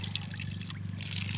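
Water splashing and trickling from a village hand water pump, a continuous close stream with a low steady hum beneath it and no voices.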